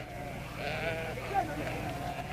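Sheep bleat in a remote, isolated village where they are tended from dawn till dusk, drawn-out wavering calls close by amid a soft background, with talk also present.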